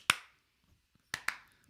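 Three sharp hand claps in a quiet room during a casual news-and-chat show, one alone and then a quick pair about a second later, each crisp and close with a short decay.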